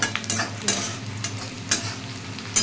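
Dried red chillies and cashews frying with onions, a continuous close sizzle broken by regular scraping strokes of a spoon stirring the pan.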